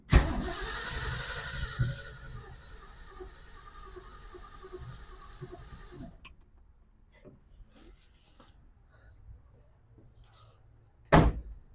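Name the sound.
1966 Ford Mustang engine cranking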